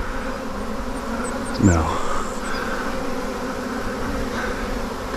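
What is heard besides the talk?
honeybee swarm buzzing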